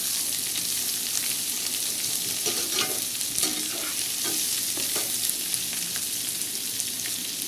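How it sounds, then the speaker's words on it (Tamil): Onions sauté in a kadai with a constant close sizzle, while soft scraping stirs come through in short clusters. "இந்த பவுலில் இருக்கிற வெங்காயத்தை கடாயில் சேர்த்துக்கோங்க. சேர்த்து அப்படி வதக்கணும்."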